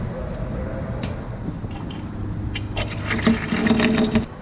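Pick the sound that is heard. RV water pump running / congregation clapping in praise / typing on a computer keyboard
RV water pump running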